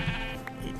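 Sheep bleating in Minecraft, set in a snowy winter biome: a steady, close bleat lasting under a second and carrying over a constant low game background, with no talk over it.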